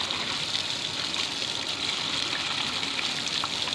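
Water gushes and runs continuously in an outdoor morning setting, a close, steady hissing rush with no breaks and no voices.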